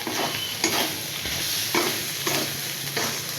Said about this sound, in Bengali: চিনি দিয়ে নাড়বো।